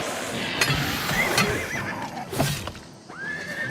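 A horse whinnies in the video game Oblivion Remastered, a rising neigh that ends in a long, clear high cry, with clattering game sounds and brief thumps underneath.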